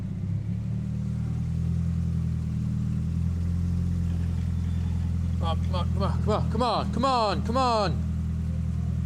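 A four-wheel drive vehicle's engine rumbles steadily at close range as it maneuvers with poor steering angle, with a rising rev toward the end and a voice talking over it.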